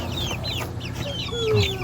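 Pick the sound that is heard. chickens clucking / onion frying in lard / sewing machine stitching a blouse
chickens clucking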